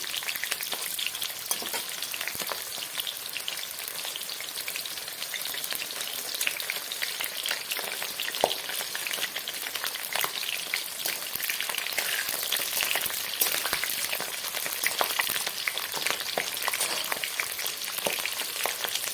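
Small sliced onions fry in a pan with a steady, dense sizzle and crackle, close and constant throughout with no voices.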